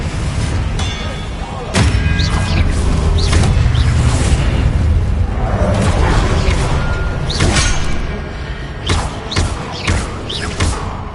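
Confringo blasting-spell explosions from a wizard game land as a series of heavy booms and thuds, with several sharp bursts and a rumbling wash between them, loud and close, with a voice faintly present at times.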